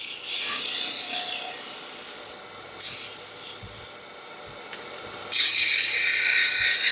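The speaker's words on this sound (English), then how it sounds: "I kind of like sanding at higher speed." Sandpaper rubbing a turned wooden stair spindle spinning at high speed on a lathe, a steady close rasping hiss in long strokes with brief pauses between passes, no talking.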